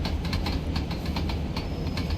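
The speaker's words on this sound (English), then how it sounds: "that's a lot of wagons with their brakes on, and this train's hardly feeling the slack." Steam locomotive in the Train Sim World 2 video game hauling a long rake of wagons with their brakes applied, giving a steady low rumble and dense rolling clatter with faint rhythmic clicks throughout, no talk.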